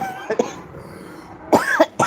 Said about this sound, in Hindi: गला साफ नहीं है, खांसी उसी में आ रही है मेरे भाई